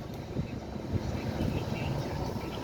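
A low, steady rotor-like rumble from a helicopter drones overhead at a scooter accident scene, moderately loud and continuous, with faint murmuring voices mixed in.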